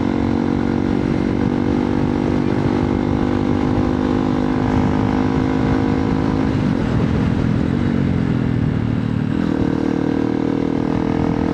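Xpulse 200 Pro motorcycles riding toward Panshet, a steady loud engine drone with wind rush throughout, the pitch and load shifting slightly near the end, no voices.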